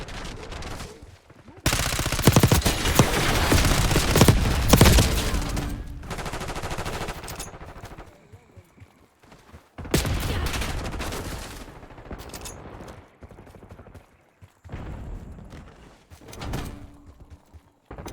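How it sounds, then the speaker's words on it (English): Gunfire from an enemy sniper and other weapons in a Call of Duty Black Ops 6 Hardpoint match, loud bursts of rapid shots in two main volleys with quieter shooting between them. "Enemy sniper shooting."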